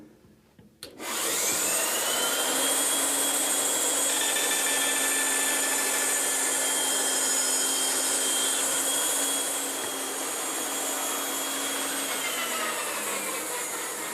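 A power saw in a woodworking shop cutting the top and bottom edges of a wooden tenon, a loud steady whine that starts abruptly, holds for about nine seconds, then eases to a lighter spinning tone as it runs down.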